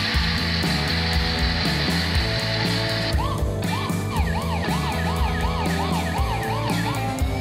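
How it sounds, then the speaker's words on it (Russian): A Bruder 02597 toy police Land Rover Defender plays an electronic siren, loud and close. It starts as a steady tone and switches partway through to a rising-and-falling wail over a repeating electronic background pattern. "Видишь, у нас работает сирена."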